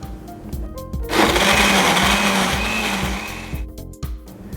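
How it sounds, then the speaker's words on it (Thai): A blender runs at full power grinding a green chili seafood dipping sauce, a loud steady whirring roar starting about a second in and holding for nearly three seconds before cutting off, with kitchen clatter before and after. "ตอนนั้นก็ใช้ความแรงนะครับ แรงสุดเลยนะครับทำให้ส่วนผสมเนี่ยบดละเอียดนะครับ"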